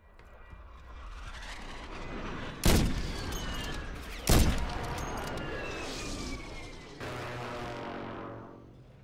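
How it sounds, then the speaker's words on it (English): Precision airstrike in a shooter video game: two sharp, loud explosive blasts a couple of seconds apart over a droning aircraft engine, followed by rumbling debris and a rising whine as the jet passes. "Friendly precision airstrike inbound."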